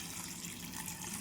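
Water poured in small amounts into a small pressure cooker in a home kitchen, a steady, soft trickling splash that runs continuously and sits fairly close.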